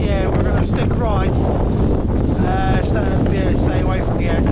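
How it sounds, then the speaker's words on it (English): Strong gusts of wind, over 50 miles an hour, roar across the exposed mountain ridge of Y Lliwedd, a loud and steady buffeting on the microphone with voices talking faintly underneath. "It's too windy."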